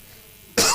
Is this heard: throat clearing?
yes